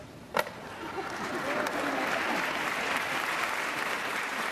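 Audience applause at a motivational talk opens with one sharp clap, then swells into steady, moderately distant clapping that holds to the end.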